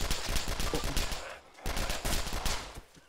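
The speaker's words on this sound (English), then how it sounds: "his buddy's trying to shoot at me" Rapid gunshots from another player in the survival video game DayZ, a dense run of sharp cracks filling the first second and a half, then a brief pause before a second burst of fire.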